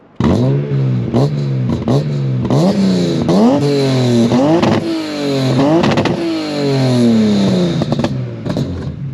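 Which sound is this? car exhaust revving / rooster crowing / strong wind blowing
car exhaust revving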